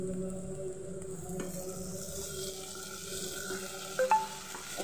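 Chopped onions with ginger-garlic paste being stirred in a pan, a soft, low sizzle with faint scraping and a couple of light clinks near the end.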